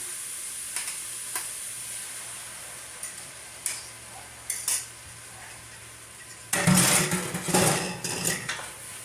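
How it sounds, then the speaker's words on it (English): Eggs being stirred in a hot pan with garlic, a utensil scraping and tapping the pan in scattered strokes, then a denser burst of scraping and sizzling near the end. "You want to stir them up so you don't have big chunks of scrambled eggs in there."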